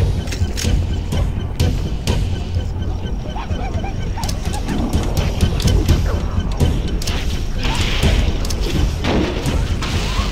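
Grenades explode in Halo: Combat Evolved during a Legendary run of the Guilty Spark level, giving several sharp booms and crashes over ongoing game noise.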